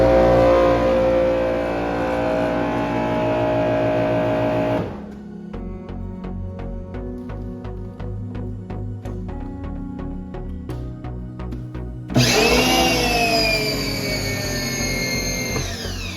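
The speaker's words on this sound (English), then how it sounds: "I first noticed the quieter motor sound" Motor of a wall-mounted retractable pressure washer hose reel, a loud steady whine that drops into a rhythmic clicking, ratcheting stretch before the higher motor tone returns, with no voices.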